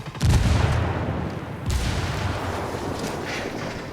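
Frag grenade blast and gunfire in the video game Ghost Recon Wildlands: a heavy booming detonation opens, with a second burst of loud gunfire rolling in near the middle, dense and close throughout.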